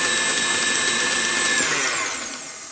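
An electric mixer with a whisk attachment whirs steadily through zucchini bread batter made with cinnamon and nutmeg, a close, even mechanical drone that winds down and fades toward the end.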